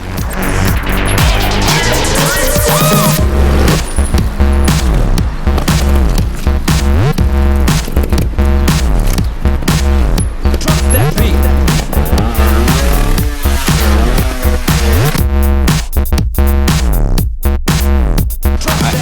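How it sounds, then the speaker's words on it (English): A 300cc two-stroke Gas Gas motocross bike ridden hard, its engine loud and close throughout, revving and dropping in repeated rising and falling sweeps with no pauses and no talking. "This is a 300cc two-stroke and the brand is Gas from Spain."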